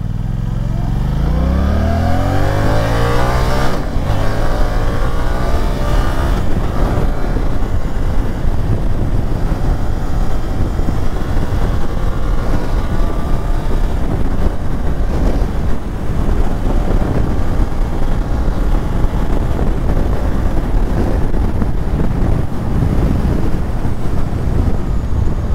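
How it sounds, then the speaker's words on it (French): A 2023 Suzuki GSX-8S roadster pulls away from a standing start, its engine note rising through several gear changes in loud, close sweeps, then settling into sustained high-speed running buried in heavy wind roar. "Alors on va se faire un petit départ arrêté ici, tranquillou bilou."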